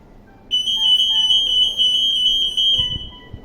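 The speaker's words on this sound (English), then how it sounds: "The alarm goes off notifying you that this person is leaving your business place without paying for this item" A loud, steady electronic alarm tone from a ZKTeco EAS anti-theft gate sounds continuously for about three seconds as an undeactivated item passes through, with a faint shuffle underneath as it ends.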